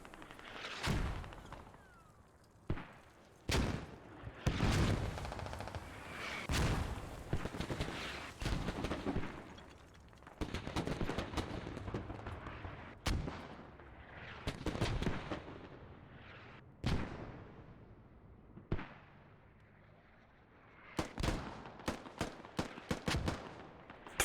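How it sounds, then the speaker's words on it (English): Mortar shells landing during a competitive video game match, a series of sharp, booming impacts scattered irregularly, some close and loud, others lighter, with quieter rumbling gaps between blasts. "More mortars coming down."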